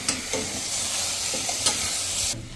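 Methi patra is stirred in a sizzling pan, a few scraping knocks of a utensil over a continuous frying hiss that cuts off at the end.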